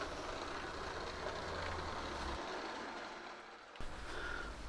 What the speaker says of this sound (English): now a few shots of the loco with a load of 3 coaches on